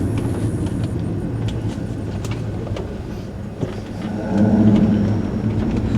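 A stock 1995 Ford SVT Cobra with a 5-liter engine and 5-speed gearbox drives along, a continuous engine and road rumble that swells louder near the end.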